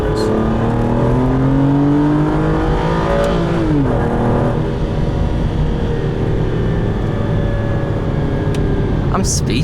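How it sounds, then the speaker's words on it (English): Stock-exhaust engine of a 2005 Aston Martin DB9, heard from inside while driving, loud and continuous with rising and falling revs as the car accelerates, a low steady drone throughout. "That's an amazing sound. For stock exhaust, too."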